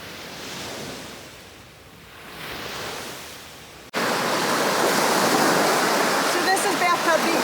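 Ocean surf washes ashore at Bathtub Beach in Stuart, Florida, at high tide, a soft rolling wash at first that jumps to a loud, close, continuous roar of breaking water.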